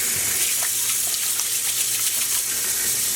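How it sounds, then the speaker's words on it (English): Tap water runs steadily into a basin with a bit of dish soap added, a continuous bright splashing gush with no pauses or voices. "we will let our basin fill up with water"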